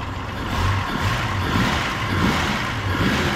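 The engine of a 1971 Ford Rural Luxo idles steadily with a low, even rumble and a faint mechanical hum, continuous and close, with no talking.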